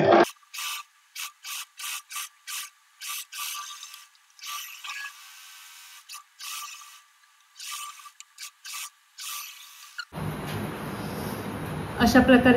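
A sewing machine stitches the sleeves and yoke of a short nighty in repeated short mechanical bursts with gaps between runs, close and fairly loud, followed by a stretch of different rubbing and handling noise.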